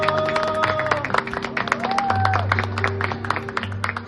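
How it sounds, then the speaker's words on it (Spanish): Audience applause at a folk performance of La Llorona by an Otomi group in Mexico, a modest, steady patter of clapping near and moderately loud, with lingering tonal sounds over it. "Aplausos, por favor, para todos ustedes."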